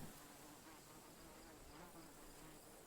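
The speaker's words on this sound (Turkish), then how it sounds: "Oh sinek sesi bile var." A fly buzzes continuously and close by in the video game The Lord of the Rings: The Battle for Middle-earth II: The Rise of the Witch-king, over a soft, steady ambient hiss, with no voices.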